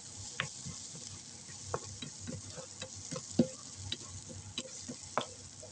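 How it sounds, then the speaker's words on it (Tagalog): Onion and garlic sautéing in a pan for caldereta, a soft steady sizzle with repeated close ticks and scrapes of a utensil stirring at an uneven pace, no talking. "Inikot-mikot natin ang sibuyas, bawang para maluto."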